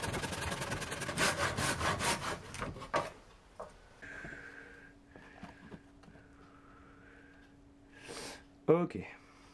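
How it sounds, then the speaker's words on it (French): Hand saw cutting wood for trike cart frame parts, a quick run of rhythmic rasping strokes up close at the start, followed by quieter workshop scrapes and clunks. "Je trace et je coupe pour rectifier mon erreur."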